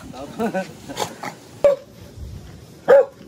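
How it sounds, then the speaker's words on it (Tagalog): Two sharp dog barks stand out over quieter talking and background noise, the second bark loud and close. "Matatapang ang mga aso."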